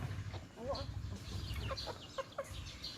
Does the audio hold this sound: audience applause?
no